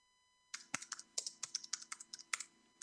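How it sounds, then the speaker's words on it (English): Keys clatter on a computer keyboard in a fast, uneven run of sharp clicks, close and clear, which starts after a brief silence and carries on steadily with nobody speaking. "And Paul, I think we hear you typing."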